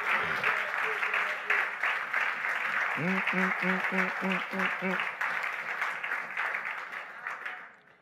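A church congregation applauds steadily and loudly for several seconds, a crowd of hands clapping in a dense wash while a voice sings or calls out briefly over it, fading toward the end.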